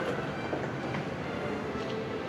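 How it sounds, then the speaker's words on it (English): KLIA Express airport rail train at a Kuala Lumpur station, giving a steady, loud rumble of rolling carriages and wheels that runs unbroken with no talk over it. "I'm going to KLIA Express, straight to the airport. I'm going towards the train now."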